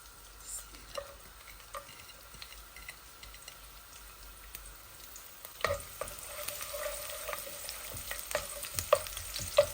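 Thinly sliced garlic cloves dropped into hot oil for Sylheti thee mitha, a quiet pan at first, then a sudden rise into brighter crackling sizzle with scattered ticks of stirring, close by and without speech.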